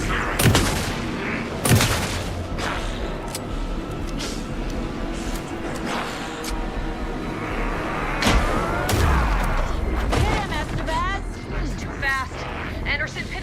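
Dense gunfire and explosive booms from an Alan Wake 2 battle fill the scene, with voices shouting over the constant shooting.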